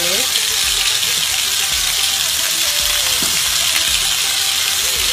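Kidney kebab pieces frying in a pan give off a steady, loud, hissing sizzle that runs without a break, with faint clatter now and then underneath.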